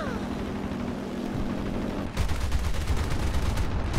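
Aircraft guns firing in War Thunder, with an A7M fighter involved: a steady engine drone gives way to a loud, rapid, continuous burst of close machine-gun fire.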